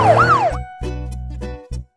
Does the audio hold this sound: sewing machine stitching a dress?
no